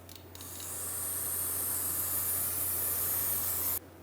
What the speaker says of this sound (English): Clean it off with brake parts cleaner.